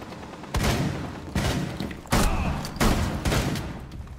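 Rainbow Six Siege gunfire: four loud bursts of shots, each lasting about half a second, spaced roughly evenly across the clip, with a faint room-like tail between them.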